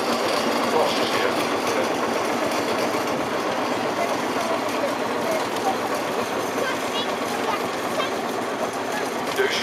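A Series 3 Field Marshal vintage tractor runs in a parade at a UK steam and country rally, its engine giving a steady, dense mechanical chatter throughout, with people talking over it.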